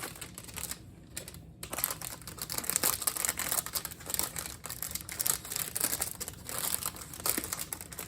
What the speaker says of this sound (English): on the inside, we've got this plastic wrap with the uniform itself